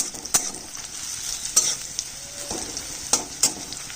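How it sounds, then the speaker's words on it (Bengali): Chopped onion fries in a pan over dry red chillies, cumin and bay leaves, giving a steady sizzle punctuated by several sharp scrapes and clinks of a stirring spoon. "পেঁয়াজটা লাল করে ভেজে নিলাম"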